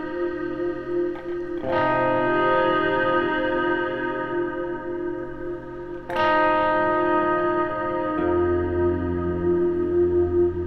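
A guitar through a Klowra Limbo reverb pedal with its brightness control adjusted, two struck chords each blooming into a shimmering, ringing reverb wash that lingers and decays, with a low note entering near the end.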